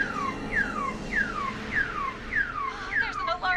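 An electronic alarm sounds in the video game Killer Frequency, a repeating falling siren-like whoop that cycles about every half second, loud and alone.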